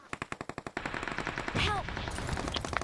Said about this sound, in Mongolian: Сүмэс над руу буудаад байна.